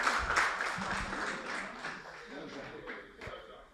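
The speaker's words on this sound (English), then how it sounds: "A big round of applause." Audience applause at a marketing and brand quiz event, a steady wash of many hands clapping that continues for several seconds, with a few louder claps near the start and background voices mixed in.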